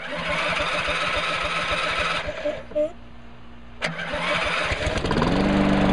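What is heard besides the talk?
2010 Lawn-Boy 10642C lawn mower engine starting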